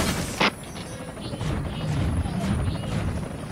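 Military helicopters in the video game Front Mission Evolved, a steady low rotor drone with faint gunfire-like bursts, one sharp burst near the start, no talking.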